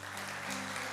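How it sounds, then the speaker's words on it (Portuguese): Brief applause from a church congregation at a revival conference, a steady wash of clapping over a low hum, with no gaps. "Você pode aplaudir ao Senhor?"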